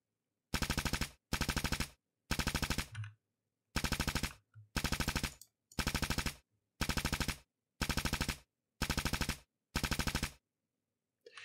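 Rapid machine-gun bursts from units in a Unity real-time strategy game, about ten evenly spaced clipped volleys each lasting under a second, loud and dry with silence between them.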